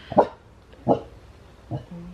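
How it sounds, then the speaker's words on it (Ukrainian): A dog indoors gives three short, separate barks at irregular intervals, moderately loud and fairly close, with quiet room sound in between and no talking. "Щось почула собака вже."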